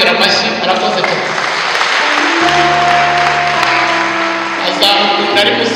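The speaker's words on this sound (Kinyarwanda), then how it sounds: "Umwongera amashyi, arakoze cyane." Guests at a church wedding in Rwanda applaud, a steady wash of clapping that runs beneath sustained keyboard or organ tones and some talk.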